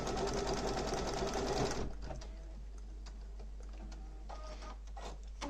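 A sewing machine with an inbuilt embroidery frame stitches a patch, running in a loud, fast mechanical whir that drops to a quieter, steady clatter partway through.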